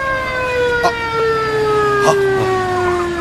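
A loud police car siren wails close by with a steady, slowly sliding tone, and brief voice-like bursts cut in over it.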